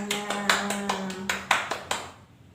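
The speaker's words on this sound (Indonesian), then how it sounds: "tepuk tangan untuk kelas 4" A fourth-grade class claps together in a quick, rhythmic classroom clapping routine. About ten crisp, evenly timed claps ring out close by, then fade into a quiet room.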